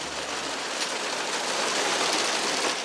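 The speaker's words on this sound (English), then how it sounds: "Well, here comes the rain." Rain shower falling steadily on a farm, a dense, even hiss of drops that stays loud and unbroken throughout with no voices.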